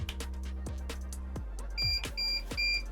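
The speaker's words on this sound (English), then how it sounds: "click this button for 3 seconds until you hear the beep" A few faint electronic beeps from a koi pond water monitor device as its button is held, thin tonal chirps over low hum and scattered clicks, quiet and close.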